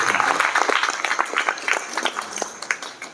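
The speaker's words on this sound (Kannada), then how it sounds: "ಹಾಗಾಗಿ ಒಂದು ಜೋರಾದ ಚಪ್ಪಾಳೆ ಅಹಲ್ಯಾಬಾಯಿ ಹೋಳ್ಕರ್ಗೆ" An audience at a Ganesh festival gathering claps loudly in a dense burst that thins out into scattered individual claps over a few seconds, close and lively.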